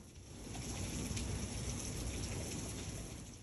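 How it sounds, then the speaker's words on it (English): Steady rain falling and pattering on surfaces at evening, a soft continuous hiss that swells in and holds at moderate level. "The rain was coming on and off,"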